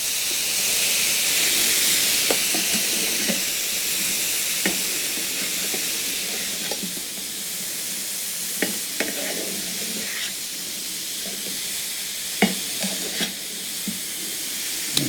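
Fajita vegetables sizzle steadily in a hot pan, a broad continuous hiss with scattered crackles and pops, while occasional clicks and scrapes mark the vegetables being stirred, close and fairly loud throughout.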